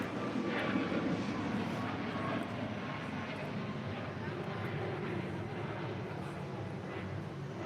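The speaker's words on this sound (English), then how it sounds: "That was Alaska Airlines flight 817 heading to Honolulu in that 737 MAX 9" Alaska Airlines Boeing 737 MAX 9 jet on its way to Honolulu, a steady broad engine roar held for several seconds at an airport, with voices talking over it.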